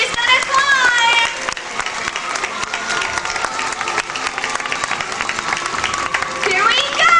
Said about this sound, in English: the louder you cheer, the higher she's going to climb